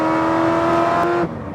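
A 2009 Corvette ZR1 making over 750 wheel horsepower accelerates hard, its engine holding a loud, steady droning roar close by before cutting off abruptly near the end, with no voices.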